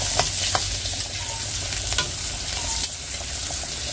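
Eggplant fries and gets stirred in a pan on a home stove, a steady close sizzle with sharp scrapes and clinks of the spoon every second or so, no voices.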